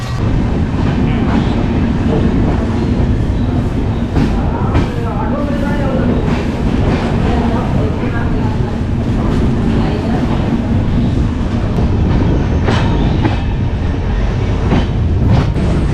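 The Swatantrata Senani Superfast Express pulls away from the platform with a dense, continuous rumble and rhythmic clickety-clack of wheels over rail joints, heard loud and close from on board throughout.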